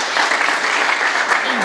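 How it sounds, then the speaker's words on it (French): Steady, dense applause from an audience at a cultural forum in Lubumbashi, filling the whole moment at an even level. "Sous vos applaudissements, s'il vous plaît."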